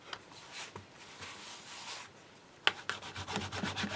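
A baby wipe rubbing across a rubber stamp, soft scrubbing strokes repeated quietly and close, with a sharper scrape near the end followed by quicker rubbing.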